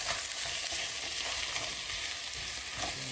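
Food sizzles steadily in hot oil in a frying pan while it is stirred, giving a constant, close hiss with faint scraping.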